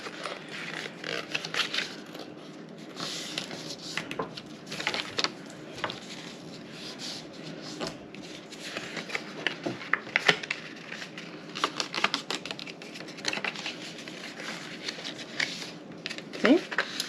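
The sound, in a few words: folding and burnishing paper score lines by finger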